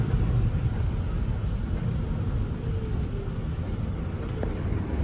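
A JCB Fastrac tractor accelerates hard in a farm drag race against a Unimog, a steady loud engine roar with broad rumble and wind noise throughout, no talking.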